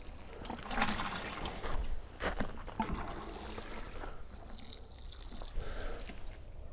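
Water poured onto dry soil around purple sprouting broccoli plants gives a steady, close splashing trickle that rises and falls slightly, with no voices.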